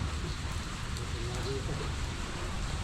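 Steady monsoon rain falls outdoors near a fish pond in the Philippines, a dense continuous hiss with low rumble, and a voice talks faintly under it.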